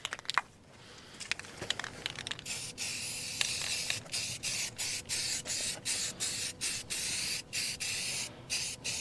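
Spray paint is applied in repeated short bursts to the inner fender wells of a 1967 Lincoln Continental, each loud hissing blast separated by a brief pause, following some rustling handling at the start.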